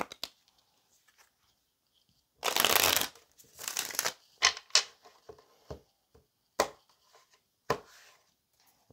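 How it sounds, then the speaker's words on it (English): A tarot deck is riffled and shuffled in a few quick bursts, with soft flutters and sharp snaps between short pauses, close up and without speech. "Let's get one more shuffle."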